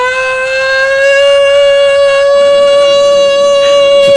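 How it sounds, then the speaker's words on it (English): A tornado siren in the Phoenix Wright: Ace Attorney Justice For All video game blares as a loud, steady, sustained tone with bright harmonics, holding one pitch throughout without pause. "Tornado siren, everybody run for the hills."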